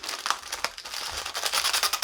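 A snack package wrapper, just cut open with scissors, crinkles in quick, faint bursts of rustling plastic close by, heard alone.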